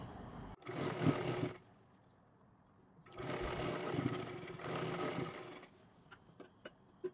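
A sewing machine stitches a tuck into a blouse, running in two sustained bursts separated by pauses, with a few soft clicks and handling taps near the end.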